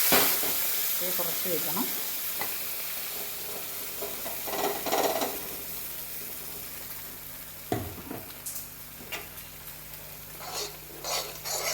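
Paneer and green peas curry gravy hits hot oil with a loud sizzle that settles into a steady bubbling fry, broken by a few stirring scrapes; a voice speaks briefly early on.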